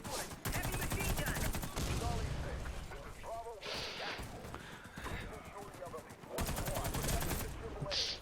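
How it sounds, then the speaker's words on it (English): A heavy machine gun rattles in Warface, with dense bursts of rapid gunfire and some pauses between them, close and loud throughout the clip. Players talk over the shooting. "Blackwood, heavy machine gun."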